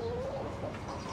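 A hen clucks and warbles softly nearby, a short rising-and-falling call over a low farmyard background.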